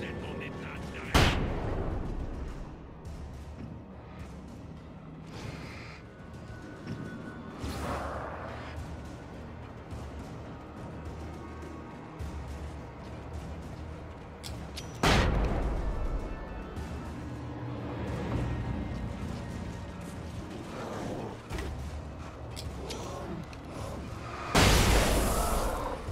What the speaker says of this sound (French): J'avoue que l'explosion des grenades, il est abusé quoi.